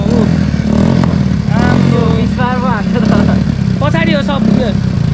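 A modified Honda dirt bike engine revs loudly up close, its pitch climbing and falling through repeated throttle blips while voices talk over it.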